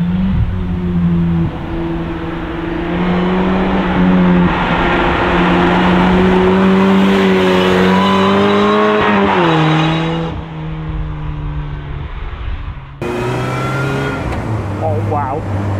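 Loud supercharged Ariel Nomad engine revving and accelerating with a rising supercharger whine, shifting gears midway, sustained throughout and close up.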